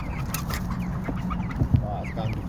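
Parrot beak aseel chickens and stags in transport boxes give a few short clucks and calls close by, with soft shuffling and a brief thump amid background noise.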